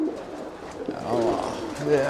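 Pigeons cooing at close range, several soft low coos rising and falling in short phrases, with a person talking alongside them.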